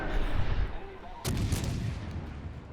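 Naval artillery guns firing from a warship in a video game: a single heavy, sharp blast partway through, over a continuous low rumble of background noise.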